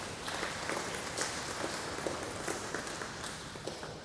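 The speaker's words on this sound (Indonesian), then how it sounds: "beri tepuk tangan dong." A chapel congregation at STT Aletheia gives quiet, fairly distant applause for a musical ensemble, a soft continuous patter of many hands with occasional sharper claps standing out.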